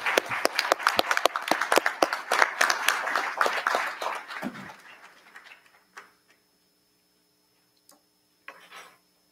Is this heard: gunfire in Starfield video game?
no